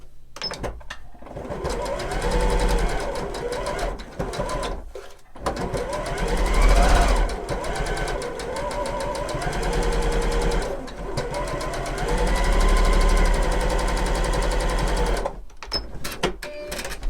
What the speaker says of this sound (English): I'm just going to sew 1/4 inch on both sides of this line, and I'm going to use my 1/4 inch foot to help me with that